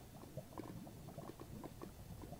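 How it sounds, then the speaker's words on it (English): A caught fish burns up with a fizzle while fishing in the Nether in Minecraft: faint, soft crackling and bubbly hissing that runs on steadily and quietly. "You've heard that fizzle, hopefully."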